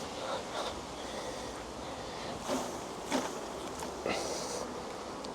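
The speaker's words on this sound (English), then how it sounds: "There is a substantial amount of bees in there." Honey bees buzz in a busy hive box just after it has been shaken, full of foragers and nurse bees; the steady, soft drone runs throughout, with a few brief louder bursts of handling noise.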